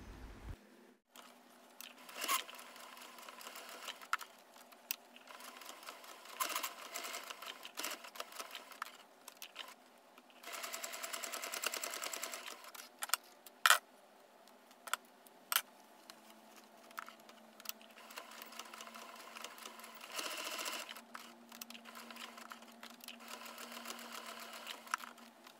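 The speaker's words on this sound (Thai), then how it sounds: "เมื่อเนาเสร็จแล้วเราก็นำไปเย็บนะคะ" A domestic sewing machine stitches around the opening of a small cotton coin purse in a quiet room, its soft rapid whirring running in bursts with short pauses and faint clicks between passes.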